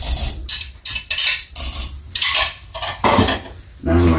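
Pasta being stirred in a pan with egg mixture and pancetta, with repeated metal utensil scrapes and clatter against the pan in irregular bursts, close and fairly loud, no talking.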